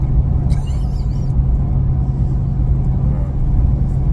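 Steady low road rumble from a 1991 Mazda RX-7 cruising on a desert road, a continuous loud drone heard from inside the car with no talking.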